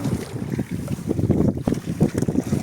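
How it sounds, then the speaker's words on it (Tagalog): Steady wind buffets the microphone outdoors on a fishing boat at Tanza, Cavite, a low rumbling roar with gusty surges and faint water sounds, no talking. "Mahangin ngayon."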